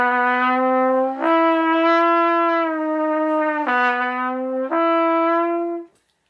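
Brass instrument sliding slowly between notes, a loud, sustained tone that bends gradually from pitch to pitch across four connected phrases, played close and alone before cutting off.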